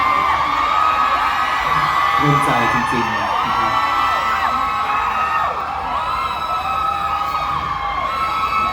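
A large crowd screams and cheers with high-pitched whoops, loud and continuous, while someone speaks over the noise at a Thai folk music concert at a temple.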